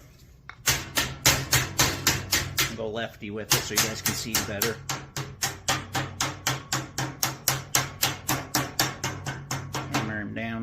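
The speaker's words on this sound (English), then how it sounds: "Hammer it back down." A thumping stick pounds HVAC sheet metal in fast, evenly spaced strikes, loud and close, with a short pause partway through, as someone speaks briefly over the hammering.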